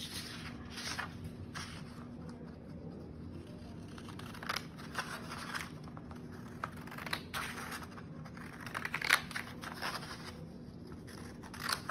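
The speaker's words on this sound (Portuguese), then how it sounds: "Uma linha de referência pra gente cortar as folhas." Paper sheets are cut along a folded middle crease, giving quiet crisp snips and rustles that come in scattered bursts over a hushed room tone.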